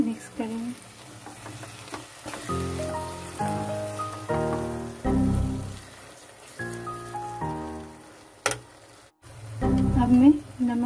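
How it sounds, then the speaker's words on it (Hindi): Mushroom curry sizzling in a pan at home as yogurt goes in, a steady frying hiss with bursts of stirring, while someone talks over it. "मैं दही ऐड करूंगी।"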